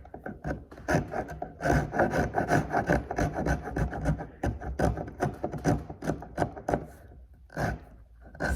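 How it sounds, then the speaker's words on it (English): Steel scraper rasping dried glue out of a tongue-and-groove area on laminated wood clamped in a vise, a steady run of close, loud scraping strokes in quick rhythm. "I'm gonna put this in my vise and I can use my scraper to get this all really nice and clean."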